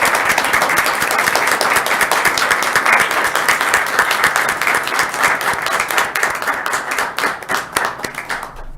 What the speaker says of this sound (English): if everyone would please join me for a quick round of applause